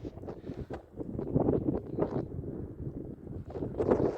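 Wind rumbles and buffets the microphone outdoors on a mountain meadow in Zakarpattia, a steady low roar with gusty swells and faint distant tractor noise.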